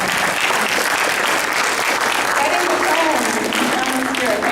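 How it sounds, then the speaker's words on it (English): A crowd at a Hall of Fame induction ceremony applauds the cheerleaders, steady, loud clapping filling the room, with a voice talking over it partway through. "round of applause for our cheerleaders this morning"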